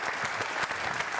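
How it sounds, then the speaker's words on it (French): A short burst of audience applause at a Téléthon talent show, even rapid clapping heard from a distance and fairly faint, with no voices over it. "Je pense que nous pouvons les applaudir encore, s'il vous plaît."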